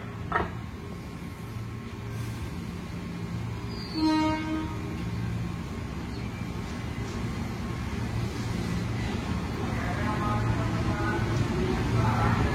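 A KRL Jabodetabek commuter train departs a station during the morning rush, a low steady rumble with a short horn-like tone and distant station announcements under the rolling noise.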